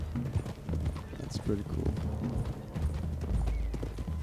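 Horses gallop in Red Dead Redemption 2, with steady clip-clop hoofbeats and an occasional whinny running under game dialogue and a voice commenting.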